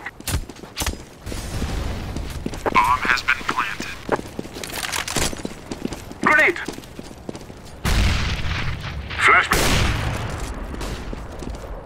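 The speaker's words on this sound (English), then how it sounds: "I'm throwing a flashbang." A flashbang grenade goes off in Counter-Strike: Global Offensive amid a busy match, sharp bursts and cracks scattered across the span with gunfire-like hits and voices talking over it.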